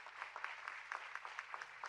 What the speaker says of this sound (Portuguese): queria uma salva de palmas para o Ricardo.